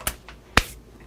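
Wire cutters snip through a wire on a salvaged scooter wheelchair, giving a faint click followed by one sharp, close snap, with no voices.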